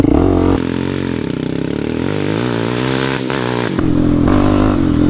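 A Suzuki LTZ 400 ATV fitted with new shocks launches in second gear, its engine roaring loud and close, climbing in pitch steadily over a few seconds, then briefly dropping and revving again.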